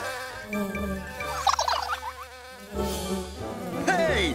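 A buzzing, insect-like drone with warbling tones rises and falls over a few seconds, with a brief higher whine near the end, made by cartoon robot bees.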